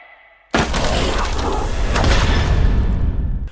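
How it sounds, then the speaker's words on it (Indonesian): A loud, abrupt blast from a gunshot in a police action film, with a lingering roar and rumble that holds for about three seconds before cutting off. "anak itu berlari ketika melihat para polisi di sana yang membuat Letnan Wahyu menembaknya"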